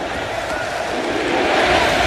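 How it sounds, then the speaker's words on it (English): A college football stadium crowd at Nebraska versus Cincinnati makes a broad, steady roar that swells slightly toward the end, with no distinct voices standing out. "You can hear this crowd again."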